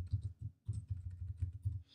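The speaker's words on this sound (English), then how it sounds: "we're going to type in our mission" Soft, muffled keystrokes tap out a line of text on a computer keyboard, a steady run of close clicks with one brief pause partway through.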